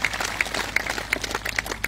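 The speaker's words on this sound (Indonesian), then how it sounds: "Beri tepuk tangan yang meriah." Audience clapping at a church gathering, a brisk, close patter of hands with regular louder beats, and some voices mixed in underneath.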